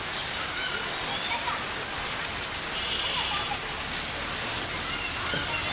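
Heavy monsoon downpour in Dhaka, falling in front of a shop where children play in the rain: a dense, steady hiss of rain drumming on surfaces for the whole stretch, with faint voices in the background.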